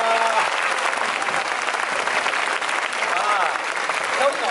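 A lively crowd at a Muay Thai event during a Thai festival in Osaka claps loudly and continuously, a dense, close roar of hands with faint voices underneath.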